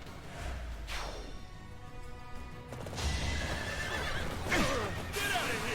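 A horse in the video game Fire Emblem: Three Houses whinnies loudly several times, with shrill rising and falling calls over a busy rumbling background.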